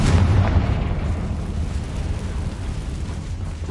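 Confringo fire spell explosion in the Hogwarts Legacy video game, a loud, deep booming blast that rumbles on steadily for several seconds, with no voices.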